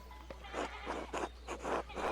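Sheep in the video game Pentiment bleat repeatedly in a steady series of five or six wavering calls, close and clear over a low constant hum.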